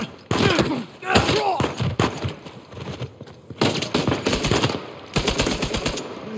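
Loud bursts of gunfire in the video game Uncharted 4: Legacy of Thieves come in several rapid volleys separated by short pauses, with voices talking between and over the shots.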